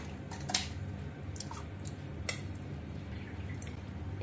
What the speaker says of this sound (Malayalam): ഇത് ഒരു അരിപ്പയില് ഇട്ട് വെള്ളം ഊറ്റിയെടുക്കാം